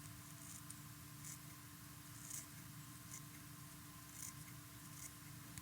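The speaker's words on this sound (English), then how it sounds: "we'll trim up the ends so that the hairs are all even and to remove some" Scissors trim the ends of stacked hair for fly tying, giving a few faint, crisp snips at irregular intervals over a quiet background hiss.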